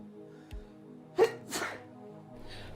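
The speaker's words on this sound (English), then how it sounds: "Oh, I've got a sneeze coming again." A single sharp sneeze from a man during a live aquarium-fish ranking stream, fairly close and loud, followed by a softer breathy burst against a quiet room background.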